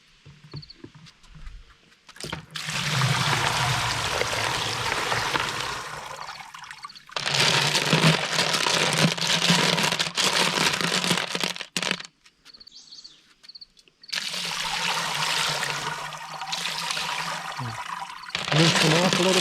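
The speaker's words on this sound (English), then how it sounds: "So now we put a colander on top of a 5-gallon bucket and" Polished rocks get rinsed with water in a colander set over a 5-gallon bucket. Loud bursts of pouring, splashing water come in three long stretches, with quieter pauses between them.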